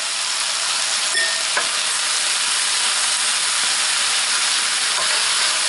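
Beef and broccoli stir fry with granulated garlic sizzles loudly in a pan, a constant close frying hiss with occasional stirring scrapes, and no voices.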